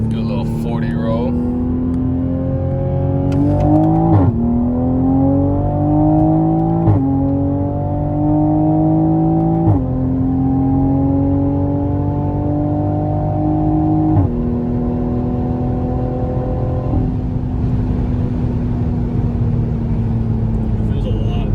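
A Toyota A90 Supra in Sport Plus mode pulls hard on a highway roll, its engine note climbing steadily through several gears with brief dips at each upshift, loud and close from inside the cabin.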